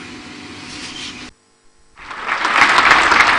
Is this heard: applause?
yes